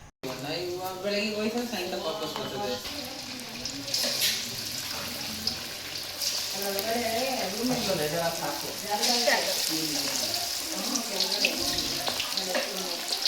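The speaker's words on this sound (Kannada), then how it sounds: "ಎಣ್ಣೆಲಿ ಹಾಕಿ ಕರಿಯೋಣ ಅಂತ ಇದ್ಬಿಟ್ಟು ಎಣ್ಣೆ ಇಡ್ತಾ ಇದ್ದೀವಿ" Soaked food fries in hot oil during home cooking for a post-festival family meat feast, a steady bubbling sizzle running throughout, with people talking over it.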